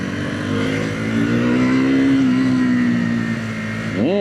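A Triumph 400X Scrambler motorcycle engine drones at a steady pitch, rises and eases off, then gives a quick sharp rev at the end.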